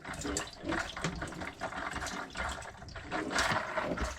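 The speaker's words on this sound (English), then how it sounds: "Pump some of that old water through." Water rushes and splashes irregularly as old water is pumped through pipes on a sailboat, gurgling like flow through a tap into a sink, fluctuating in bursts throughout.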